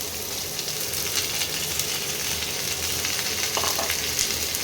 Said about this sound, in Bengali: এইবারে পেঁয়াজটা একটু ভাজা ভাজা হবে